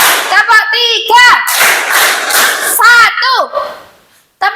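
Children in a classroom clap their hands in unison to a teacher's command, a few loud group claps breaking through ongoing high-pitched chatter and speech.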